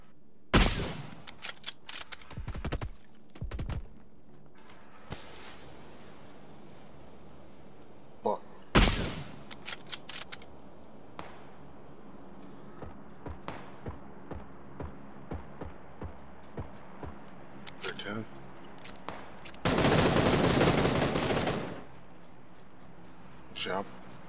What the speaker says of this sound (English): Wait, he's being shot at from behind.